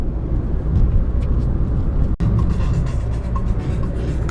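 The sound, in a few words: car driving on road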